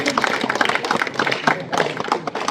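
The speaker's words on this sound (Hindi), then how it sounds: "जोरदार तालियों से हार्दिक स्वागत, अभिनंदन करें।" A village welcome ceremony draws a crowd applauding with loud, irregular claps that swell and ease over a couple of seconds, with no talking.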